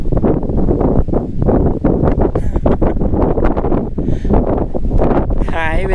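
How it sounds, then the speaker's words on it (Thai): Strong wind at a campsite, loud gusty buffeting against the microphone throughout, with rustling and someone talking underneath. "ลมขนาดนี้ไม่รู้จะพัดไปไหนแล้วแหละ"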